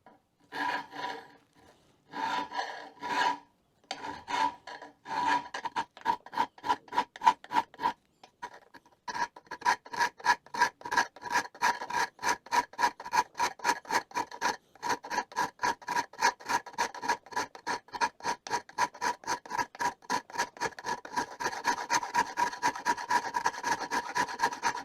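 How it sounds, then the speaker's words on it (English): A metal file works the lips of a Saiga .223/5.56 magazine in close, rhythmic rasping strokes, sparse at first and then settling into a fast, steady back-and-forth that grows slightly louder. "I'm going to use a file instead of a rasp. because it's metal."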